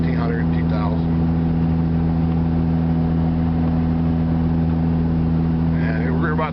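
A diesel pickup truck engine drones steadily while pulling uphill at a moderate 1,600 to 2,000 rpm, a constant low rumble heard from inside the cab, with someone talking over it.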